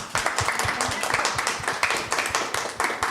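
An audience claps for the hosts at a community bookstore event, a loud, steady round of many hands with distinct sharp claps standing out through the burst.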